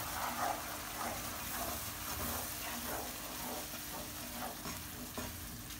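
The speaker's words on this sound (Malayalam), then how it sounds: "ഇനി ഇത് നല്ല സ്റ്റിക്കി ആയി വരുന്ന വരെ നമുക്ക് ഇളക്കിക്കൊണ്ടിരിക്കാം." Caramel candy mixture with cream being stirred in a hot pan, a steady bubbling sizzle with soft scraping strokes throughout, close and continuous with no talk.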